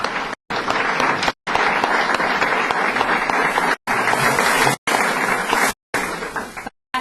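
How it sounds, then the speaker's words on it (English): Audience applause at a St. Luke's Hospital nursing awards ceremony in 2013 forms a loud, steady wash of many hands clapping, broken by several abrupt brief cutouts. "Let's give everyone another round of applause"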